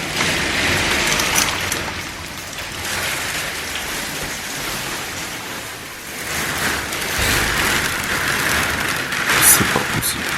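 Rain falling steadily in a dense, hissing wash of drops on surfaces, swelling and easing slightly in intensity, with no voices over it.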